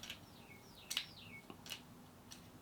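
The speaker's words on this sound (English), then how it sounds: "All I can hear is the fucking bird out there." A bird outdoors chirps faintly in short, sharp high tweets and a few descending whistles, scattered across a quiet background with no talking.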